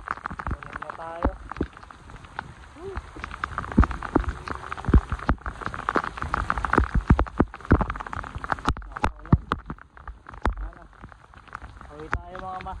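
Heavy rain in Saipan patters steadily on a surface nearby, with irregular drips and splashes, while people talk over it.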